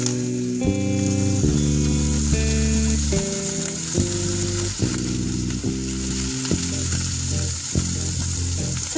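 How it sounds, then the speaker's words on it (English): Canadian bacon frying in a pan gives off a steady sizzling hiss, with a sustained tonal hum and clicking overlaid throughout. "continue working on the Canadian bacon, which is going to be ready in just a few moments"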